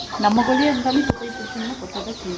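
A chicken squawks and clucks loudly and close by in agitated bursts, with a sharp knock partway through and voices talking in the background.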